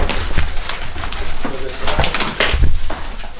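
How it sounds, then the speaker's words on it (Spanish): Pigeons coo repeatedly inside an abandoned house, soft throaty calls close by that overlap in an irregular rhythm, with a low hum under them and faint movement around. "Están llenos de palomas, hermano."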